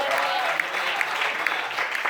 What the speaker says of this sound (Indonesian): Tepuk tangan bagi Tuhan kita yang luar biasa.